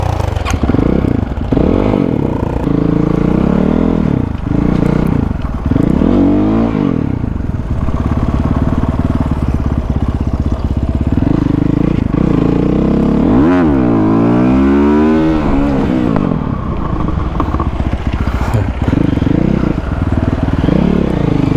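A motorcycle engine revs and roars repeatedly during a wheelie, loud and close, with rising and falling acceleration and some clatter and scraping mixed in.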